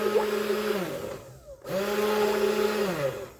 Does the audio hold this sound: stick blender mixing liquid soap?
yes